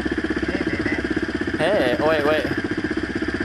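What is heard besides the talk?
dirt bike engine exhaust idling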